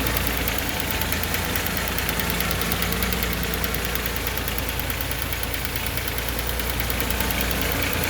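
A 1982 Datsun 280ZX engine idles steadily close by during work on its manifold gaskets and fuel injectors, a continuous mechanical hum with light ticking running without a break.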